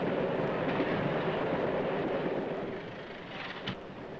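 A steady, loud rumble and rush from a moving passenger train bound for Budapest in a 1931 comedy film, easing slightly toward the end, with a brief higher burst near the close.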